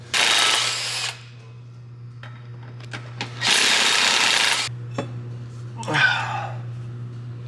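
A power tool buzzes off car flywheel bolts during work on a locked-up ZHP engine swap, with two loud close bursts of whirring rattle separated by quiet clicks and a hum, then a shorter rasping whine.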